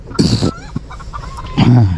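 Polish Cap chickens clucking close by, a couple of loud throaty bursts with softer murmuring clucks between them.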